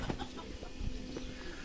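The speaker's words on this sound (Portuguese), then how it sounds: "Oh, tem bastante galinha." Chickens on a dairy farm give faint, scattered clucks over a low, steady background of farmyard noise.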